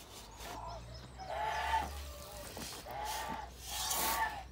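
Geese honk in a few short bursts, separated by brief pauses, with a low rumble underneath and a voice faintly in the background.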